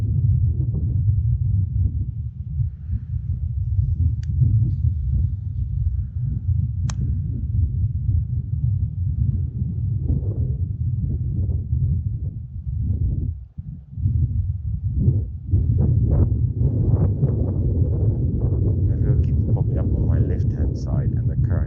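Wind gusting at a river during a fishing outing, a steady loud low rumble buffeting the microphone throughout, with a voice briefly talking over it near the end.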